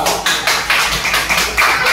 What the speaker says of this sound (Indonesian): tepuk tangan buat kelompok 1, 2